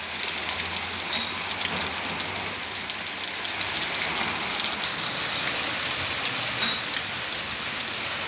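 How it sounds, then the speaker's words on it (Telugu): Heavy rain pours steadily in Balanagar, a dense, constant hiss of drops hitting surfaces that continues without a break throughout. "వర్షం పడుతోంది."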